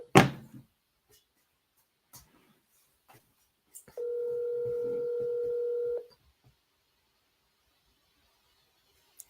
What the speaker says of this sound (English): I'm going to phone a friend.